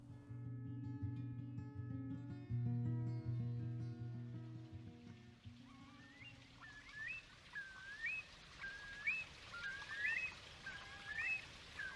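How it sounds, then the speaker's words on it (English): Eurasian curlew calls in Cornwall ring out in the second half: a series of rising, bubbling whistles repeated several times, following a low, steady droning tone at the start. "The haunting, low-rising whistle of a Eurasian curlew is a fanfare that can be heard now here in Cornwall."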